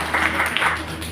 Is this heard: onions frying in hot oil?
no